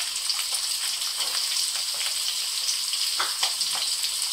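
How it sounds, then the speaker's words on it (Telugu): Carrots and beans frying in hot oil, a steady close sizzle with small crackling pops throughout. "సో ఇవన్నీ కూడాను ఆయిల్లో వేసుకొని కొద్దిగా సరిపడా కొద్దిసేపు అయితే బాయిల్ చేయాలి."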